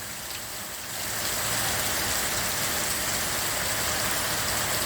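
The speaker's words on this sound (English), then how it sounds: "Raining cats and dogs out there today." Heavy rain pours down outside a workshop as a dense, steady hiss that swells after the first second and then holds at full strength, with no voices.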